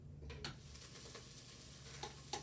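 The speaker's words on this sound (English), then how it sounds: "we're going to let this saute for about 3 minutes until the vegetables" Onions and carrots saute in olive oil inside an electric pressure cooker, giving a quiet, steady sizzle broken by a few soft scrapes of stirring.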